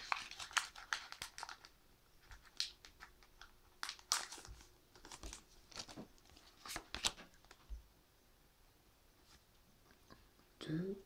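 A Pokémon card booster pack wrapper being torn and crinkled open, with sharp irregular rips and rustles in bursts, close and fairly quiet, with brief pauses between pulls.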